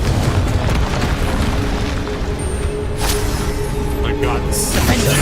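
In Hogwarts Legacy, a Confringo fire spell detonates with deep, booming blasts amid continuous game sounds, loud and close, with a voice talking over the action.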